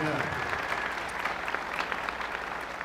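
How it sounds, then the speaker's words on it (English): A full-house concert audience applauds a swing performance by a chorale and band, a dense, even sheet of clapping heard at a distance and fairly soft, with a voice faintly over it. "Let's give yourself a round of applause"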